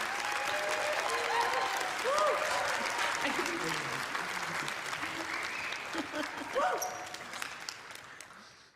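An audience applauds as Anna and Peaches are welcomed on stage at a fireside chat, with sustained, fairly close clapping that slowly fades toward the end under brief overlapping voices.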